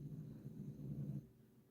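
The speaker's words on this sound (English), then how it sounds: "Dog's interested, snoring his little heart out." A dog snores softly nearby, a low rumbling breath lasting about a second before fading into quiet room tone.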